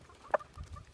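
A chicken at a farm coop gives a single short cluck while the flock is handed a mixed feed, one brief close call over quiet low rustling.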